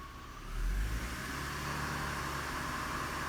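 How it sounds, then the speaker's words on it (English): The 4.2L engine of a 2005 GMC Envoy revs up from idle in a sudden rise, then holds a steady elevated hum, close and fairly loud, with no talking. "Try revving it up."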